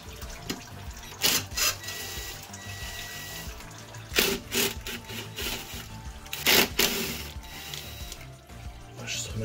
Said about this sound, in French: maintenant on peut retirer tous les boulons.